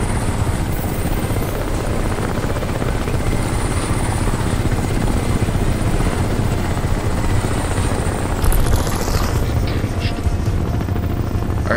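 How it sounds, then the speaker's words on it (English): A helicopter's rotor thumps loudly and steadily overhead in the video game Crysis Remastered, a constant, heavy whirring drone that fills the whole stretch, with no talk. "I hear a helicopter."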